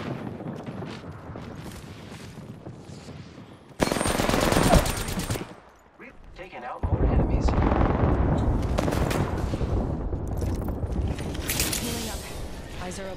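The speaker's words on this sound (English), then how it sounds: "Airstrike." An airstrike bombardment in Apex Legends: heavy rapid gunfire and explosive blasts build into a loud barrage, drop briefly, then return in dense rolling bursts.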